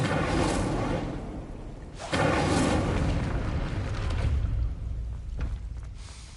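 Incendio fire spell cast in Hogwarts Legacy on PS5, a loud booming whoosh of flame bursting and rumbling for several seconds, close and heavy.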